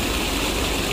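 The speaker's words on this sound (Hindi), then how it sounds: "अच्छा जी ट्यूबवैल चला दिया है और मैं अबू जी पानी लगाने लगे हैं।" A tubewell pump runs at night, pushing irrigation water into a field, with a constant broadband roar of engine and gushing water and no pauses.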